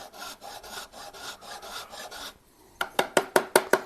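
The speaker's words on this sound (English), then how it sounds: "It's using a kind of a coarse mill bastard file." A coarse mill bastard file rasps back and forth across a wooden guitar neck being shaped, a steady run of scraping strokes, a brief pause, then six sharper, louder strokes in quick rhythm, close up and alone.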